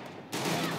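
A single burst of video game gunfire starts abruptly partway through and stays loud and close for the rest of the short moment, with no speech.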